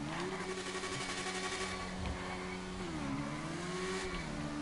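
A car engine revving in a video game with VTEC engaging, a steady, loud whine that rises and dips in pitch as the revs climb and fall.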